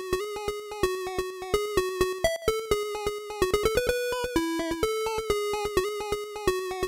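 A lone NES chiptune square-wave channel at 50% duty cycle carries a melody for Venture Kid, each note trailed by a quieter echo repeat, giving a dense, steady stream of bright buzzy tones.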